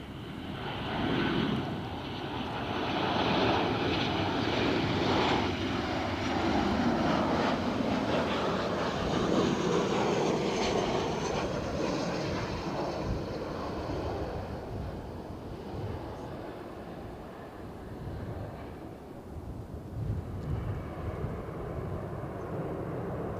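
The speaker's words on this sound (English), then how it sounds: "There's a Ryanair back to get the wheels down." A Ryanair jet lands at Edinburgh Airport, a loud, steady broadband roar that rises in the first seconds and holds, then eases slightly toward the end, mixed with wind buffeting on the microphone and no voices.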